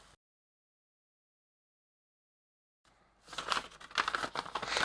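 Silence, then plastic crinkling and rustling builds up as a generic white plastic bag holding a rechargeable fan is handled and torn open, close and fairly loud.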